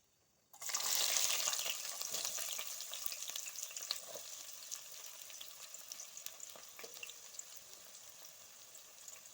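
Onions fry in a pan with cloves, cardamom and other whole spices. A loud sizzle bursts in when they hit the oil, then settles into a steady crackling hiss that is heard close and alone.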